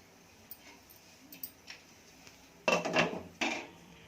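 Pot of pesaru pappu (moong dal curry) with oil and turmeric, stirred then covered: a couple of sharp metallic clatters of spoon and lid close by after quiet kitchen ticks.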